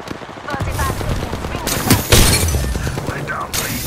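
Gunfire in the battle royale game Apex Legends: a dense burst of cracking shots and impacts around the middle, with lighter firing before and after, loud and close, mixed with game sounds and a talking voice.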